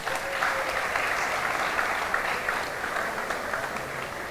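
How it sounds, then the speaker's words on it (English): Steady crowd applause for the sponsors at a Congressional Black Caucus Foundation Annual Legislative Conference gala celebrating leadership in the fine arts, a full, even roar of clapping from a large audience lasting a few seconds without speech over it. "Let us give our sponsors a round of applause."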